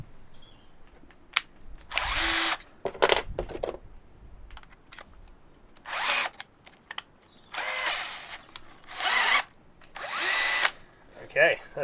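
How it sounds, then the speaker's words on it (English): Power drill re-boring starter holes in a Transit van's metal roof with a slightly larger bit, in several loud, separate whirring bursts of a few seconds each, with small clinks and handling noises between them. "We're just going to go and re-drill them all with a slightly bigger drill bit so we can get the jigsaw blade in."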